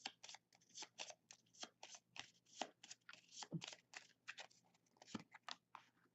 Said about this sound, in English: So I can draw a card, which means I must immediately shuffle.